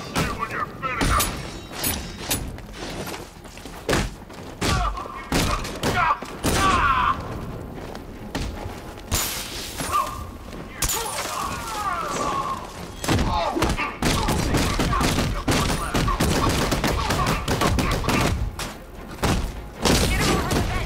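Gunfire in Batman Arkham Knight during a GCPD siege: loud rapid bursts, booms and heavy thuds keep up almost without pause, mixed with shouted voices.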